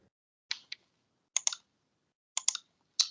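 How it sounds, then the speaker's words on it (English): Keystrokes on a computer keyboard during an online public consultation webinar: about eight sharp, close clicks in short irregular bursts of two or three over three seconds, fairly quiet, with silence between and no talking. "Rupert, I see you're typing"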